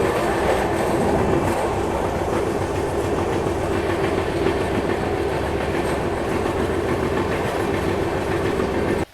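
A train rumbles steadily close by at Rameswaram railway station, its wheels clicking rhythmically over the rails, before the sound cuts off abruptly.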